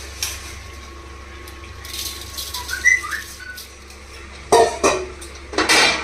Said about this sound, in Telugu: ఇప్పుడు ఈ రైస్ ఇందులో వేసేసుకుందాము.